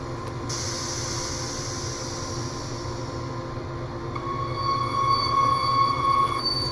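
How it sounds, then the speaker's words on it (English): A rapid transit train in Train Sim World moves forward, a steady rumbling roll with a high wheel squeal or whine rising partway through, with no talking. "Come on then, little train."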